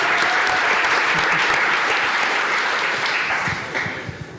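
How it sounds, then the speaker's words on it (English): A conference audience at a GopherCon EU quiz-style game gives loud, sustained applause that holds steady, then thins out and tapers toward the end. "Round of applause as we go into round 2."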